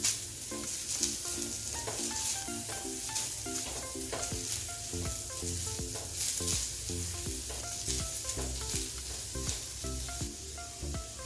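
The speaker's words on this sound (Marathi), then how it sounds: "थोडासा परतून घ्यायचा आहे कांदा आधी मग तेल घालून थोडासा भाजून घ्यायचा आहे आपल्याला" Onion sautéing in oil in a pan for fish curry, giving a steady, close sizzle with occasional stirring scrapes, heard under tonal background music throughout.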